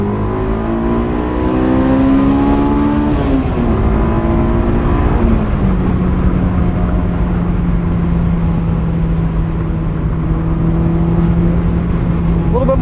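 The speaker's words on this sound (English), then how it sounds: "gonna go for a quick drive in my 2001 AP1 Honda S2000" A 2001 Honda S2000 AP1 sports car on the road, heard from inside as the engine revs climb and drop through gear changes, then settle into a steady loud drone under road noise.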